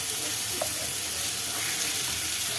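Onions sauté in a pan with red rice flour, giving a steady close sizzle with a light stir around the midpoint.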